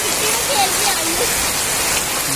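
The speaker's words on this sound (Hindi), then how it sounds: "बहुत तेज बारिश है" Heavy rain pours over rice paddy fields by the Markanda river, a dense, steady hiss that fills the whole stretch, with faint voices underneath.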